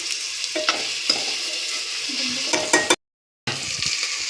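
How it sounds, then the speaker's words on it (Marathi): Onion frying in a pan, a steady loud sizzle with occasional stirring scrapes and clinks, broken by a brief gap of silence before the sizzle resumes. "मस्त कांदा लाल होईपर्यंत आपण त्याला भाजी कांदा थोडा फ्राय होऊ द्यायचा आहे आपल्याला"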